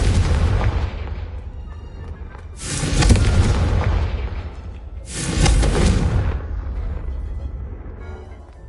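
Two booming fire-spell blasts from Confringo in the Hogwarts Legacy video game, each a loud, sharp burst that rolls off into a long rumbling decay, spaced a few seconds apart over a low ambient bed.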